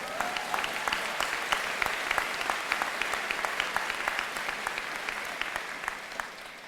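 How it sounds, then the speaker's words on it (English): Audience at a college commencement ceremony applauds steadily, a dense sustained clapping from a large crowd, moderately loud and continuous throughout with individual claps standing out, no talking heard. "You can clap for that, that's good."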